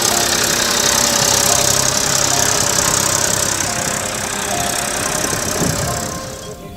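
A tractor engine runs loud and close with a steady, knocking idle and a broad mechanical rumble, easing slightly toward the end; no voices are heard over it.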